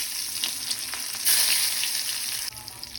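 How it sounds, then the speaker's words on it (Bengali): Eggs seasoned with salt and turmeric sizzle steadily in a hot pan, a close, continuous crackling hiss that swells loudly for a moment and then settles back. "আমি ডিমগুলো হালকা ভেজে নিব"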